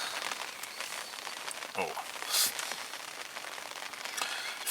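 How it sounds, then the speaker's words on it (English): Steady patter of rain drumming on a fishing bivvy at a carp fishery, a continuous broadband hiss with occasional louder drops, while someone briefly speaks close by. "you can probably hear it's raining again"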